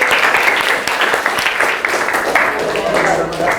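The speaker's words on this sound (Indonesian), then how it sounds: "Kasih tepuk tangan dulu untuk kelompok 2." Students in a classroom clap for a presenting group, a dense burst of hand claps lasting a few seconds with voices mixed in underneath.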